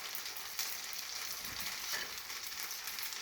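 Corn cakes fry in a pan with a soft, steady sizzle, quiet and close, and brief faint stirring sounds partway through.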